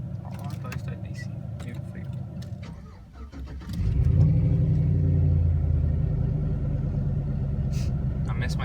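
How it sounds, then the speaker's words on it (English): A truck engine cold-starts after a few seconds of idle background and voices, cranking briefly before catching into a loud, steady, rumbling idle close by, with people talking quietly over it. "Cold start, you ready?"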